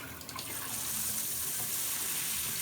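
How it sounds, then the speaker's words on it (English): Steady hissing rush of water spraying from a leaking shower sprayer hose, starting with a few spurts and settling into a constant close spray. "And now I'm going to turn this on. And it was spraying water here."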